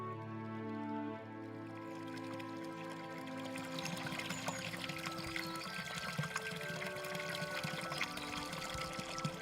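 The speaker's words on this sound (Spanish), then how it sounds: "el agua del deshielo forma pequeñas lagunas y se filtra entre las fisuras de la roca, rellenando gélidos manantiales." Snowmelt water trickles and splashes through cracks in mountain rock, a steady bright liquid flow that carries on continuously, close and moderately loud, with no voices.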